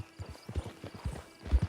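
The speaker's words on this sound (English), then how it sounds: "Get on the horse when you're ready." A horse's hooves clip-clop at an uneven walking rhythm in the Red Dead Online western game, close and fairly soft, with a brief whinny near the end.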